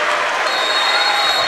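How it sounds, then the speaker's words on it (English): A steady wash of crowd noise fills a gym at a 7th grade junior high basketball state championship game, with cheering and applause holding at an even level throughout. "What an electric crowd for 7th grade basketball here at Macon Meridian High School."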